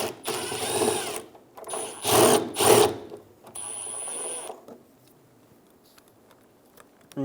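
A power tool backs out a 10mm bolt from a rear bumper bracket on a 2007-2011 Toyota Camry, giving several short close whirring bursts of rising and falling pitch, then quiet clicks and handling noise.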